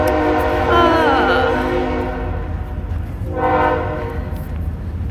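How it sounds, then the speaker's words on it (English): A train rumbles past and sounds two long, loud horn blasts, the first near the start and the second a few seconds later, over a low steady roar and faint background chatter. "It's a train."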